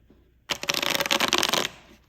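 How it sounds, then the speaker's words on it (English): A single quick riffle shuffle of a deck of oracle cards with a smooth finish, a close, crisp burst of rapid fluttering card clicks lasting about a second before stopping abruptly. "here's how it shuffles"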